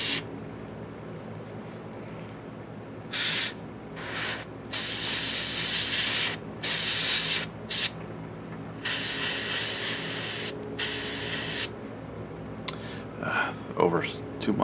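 Airbrush spraying paint onto a Reaper hill giant miniature, loud hissing bursts that start and stop repeatedly, each lasting from under a second to a couple of seconds, with a person speaking quietly around them.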